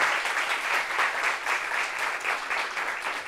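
A French studio audience applauds a guest arriving on a TV talk show, the clapping loud, even and close throughout.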